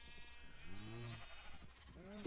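Sheep in a pen in the Minecraft Agrarian Skies modpack bleat in a few wavering, layered calls, close and clear over a steady low game background.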